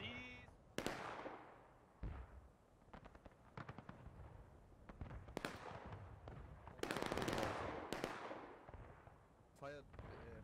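Reenactment artillery battery firing cannons at a Gettysburg battle event, several loud booming blasts spaced irregularly with crackling echoes, shouted commands and background voices between shots.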